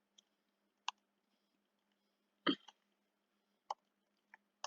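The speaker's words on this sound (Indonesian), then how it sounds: "Caranya kita ketikkan show variables" Sparse, isolated clicks of keys being typed on a computer keyboard, about half a dozen separate taps spaced irregularly, with one slightly louder double click in the middle, close by and otherwise quiet.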